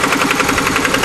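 A Hatz E79 diesel engine, rated at 3000 RPM, runs steadily at high speed, giving a loud, even mechanical drone with a fast regular pulse and no other sounds.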